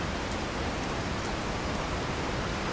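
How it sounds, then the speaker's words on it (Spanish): Steady rain falling in a Resident Evil 4 game scene, a dense, even hiss of drops holding at constant level throughout with no voices. "Qué bien hecho está el efecto de la lluvia"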